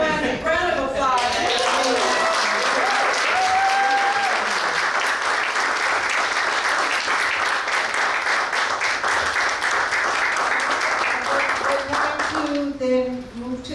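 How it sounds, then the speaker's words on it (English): Applause from the audience at a wildfire poetry reading, a long, full round of many hands clapping that swells, holds steady and fades, with a speaking voice before and after it. "Everyone, a round of applause."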